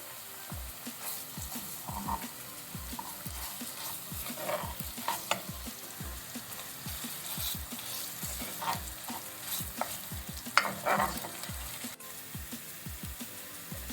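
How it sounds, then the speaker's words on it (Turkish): Tomato paste and pepper paste fry in a pot with a soft, close sizzle under frequent rhythmic scraping taps as a spoon stirs the thick mixture. "Şimdi de 1 yemek kaşığı domates salçası, 1 yemek kaşığı biber salçasını ekliyorum."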